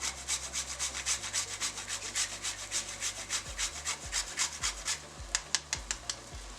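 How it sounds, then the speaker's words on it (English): A whole nutmeg is rubbed against a grater in a kitchen while making a Jamaican coconut dessert, a rhythmic series of close, scratchy rasping strokes, steady at first and then quicker and more spaced. "I'm going to grate some nutmeg, about 1/4 of a whole nutmeg."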